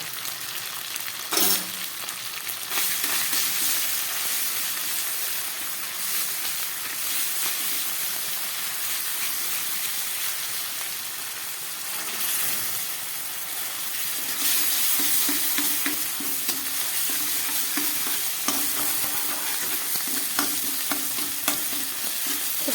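Ginger, dried chilli, cumin and coriander paste sautés in a pan over low gas for a chicken curry, a steady close sizzle and fry with occasional scraping stirs, no voices.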